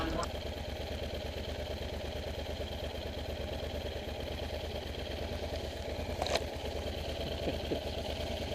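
A motorcycle engine idles steadily on a trail, a low, continuous mid-pitched drone held for several seconds with a brief clatter toward the end and faint voices in the background.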